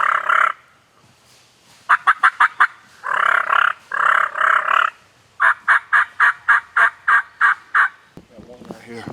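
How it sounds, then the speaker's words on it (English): A wild turkey on a ridge in Tennessee gobbles in several loud rapid bursts, each a rattling run of sharp notes separated by short pauses, fairly close and without talk. "Bird right here gobbling on the ridge"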